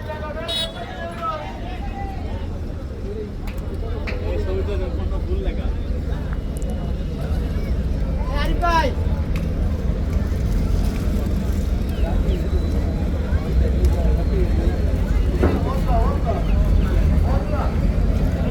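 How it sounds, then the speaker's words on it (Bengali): Passenger launch Karnaphuli-13 docking at Hakimuddin launch ghat, a steady low engine drone throughout with occasional distant toots, under continuous nearby talk. "সো দেখতে পাচ্ছেন কর্ণফুলী 13 এখন ঘাট দিচ্ছে হাকিমুদ্দিন লঞ্চ ঘাটে।"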